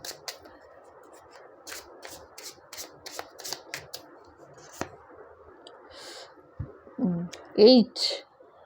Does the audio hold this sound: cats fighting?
no